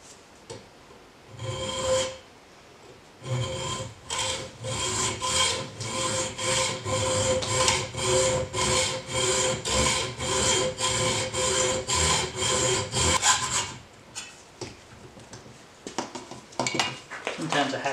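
A hand hacksaw cuts metal stock in a steady rhythm of rasping back-and-forth strokes, about twenty of them close and clear, with some handling noise before and after.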